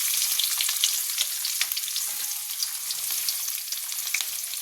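Onions and urad dal frying in hot oil for a Tamil radish (mullangi) poriyal, a steady close sizzle with scattered crackling pops throughout, no voices.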